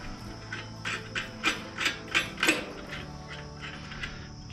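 A ratchet wrench clicks in short bursts, close up and fairly quiet, as bolts with lock washers are tightened on a Harbor Freight Haul-Master 1000 lb swing-away trailer jack, about half a dozen rhythmic ratcheting strokes with no talking.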